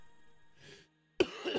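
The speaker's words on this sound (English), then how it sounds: "but I will occasionally cough like that" One person gives a short, harsh cough close to the microphone, following a quieter huff of breath, over faint background hum.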